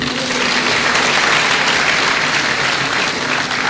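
Dense, steady applause from a large lecture audience after a professor is introduced at a university inaugural lecture, broad hissing claps filling the whole stretch evenly and loudly with no talking.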